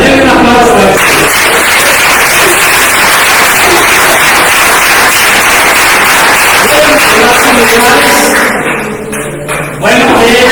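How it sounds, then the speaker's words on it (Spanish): Loud, sustained applause from a church congregation during a Sunday service fills the room, with voices and some musical tones mixed in around it. "Denle un aplauso a Jesús."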